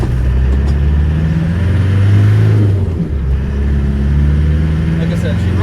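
A 1996 Land Rover Defender 110 with the 300Tdi diesel drives along, its steady low engine drone loud and close throughout, rising slightly as it accelerates, with cabin road noise underneath.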